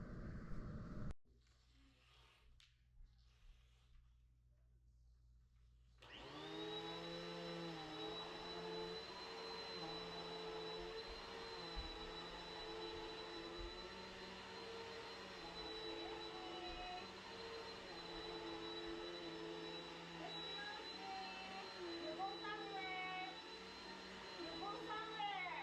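A household vacuum cleaner runs steadily in a living room, starting abruptly after a quiet moment and holding a loud, constant whine with a high pitched tone for the rest of the stretch.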